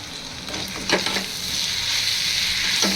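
Large tomatoes sautéing in a pan with onion paste for chicken kulambu, producing a continuous close sizzle and crackle, with a couple of stirring scrapes.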